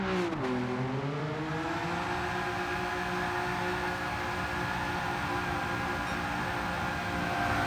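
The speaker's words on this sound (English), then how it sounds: "It's still wheel spinning" A people carrier car in Gran Turismo 7 holds a steady, loud engine drone with harmonic lines that sweep up early and then settle, suggesting sustained wheelspin at high revs, alone with no talk.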